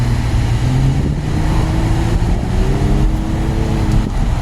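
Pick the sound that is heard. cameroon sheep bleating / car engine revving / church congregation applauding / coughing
car engine revving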